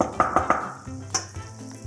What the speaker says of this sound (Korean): 자 이렇게 넣고 볶아주셔야 돼 기름에